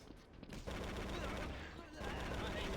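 Weapon fire from a modded Halo video game, a dense, continuous burst of rapid shots filling the whole moment, loud and close with no pause.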